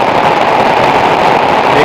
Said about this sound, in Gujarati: પતરાનું પાણી પડે